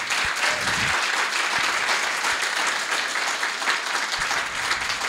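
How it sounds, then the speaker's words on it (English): A crowd at an Asian American storytelling show gives a sustained round of applause, loud, dense clapping that holds evenly for several seconds, with a few sharper individual claps standing out. "Can we get Chloe another round of applause?"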